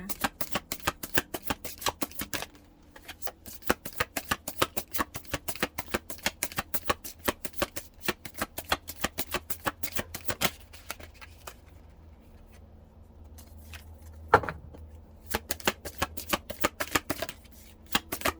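Tarot cards are shuffled by hand in rapid, crisp riffling bursts, close and dry, with a short pause in the middle before the shuffling resumes.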